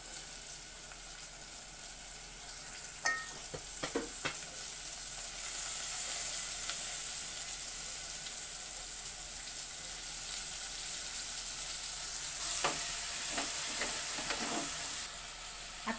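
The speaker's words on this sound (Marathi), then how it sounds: "आता मी इथे भाज्या याच्यामध्ये मिक्स करणार आहे." Mixed vegetables and tomato frying in a pan for veg pulao, a steady moderate sizzle with intermittent stirring scrapes and clinks, close and continuous without talk.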